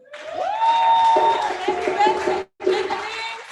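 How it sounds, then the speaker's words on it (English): Audience applause and cheering at a 20th birthday celebration for an organisation, a dense burst of clapping and voices with whoops rising over a room, briefly cut off then resuming. "Give a round of applause for our birthday, please."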